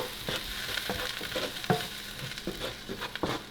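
Cumin, curry and cinnamon spices being stirred in a pot for red lentil soup, soft scraping strokes over a low sizzle, quiet and close.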